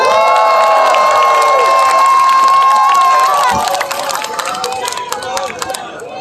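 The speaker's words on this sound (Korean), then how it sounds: "진교훈 후보 큰 박수 맞아주시기 바랍니다." A crowd at an outdoor election campaign rally in Seoul's Gangseo district cheers and applauds loudly, with a tonal whistle or horn running through the first half before the noise thins into scattered clapping and shouts.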